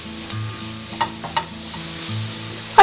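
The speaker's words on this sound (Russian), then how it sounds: "Теперь пассируем овощи, помешивая уже вместе." Onion and grated carrot sautéing together in a frying pan while being stirred, a low sizzle with a few scraping clicks of the utensil, close by, under soft background music.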